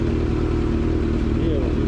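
A motorcycle rides along a road early in the morning on a long touring trip, its engine droning steadily and close, with loud wind and road rumble throughout and no break in the sound.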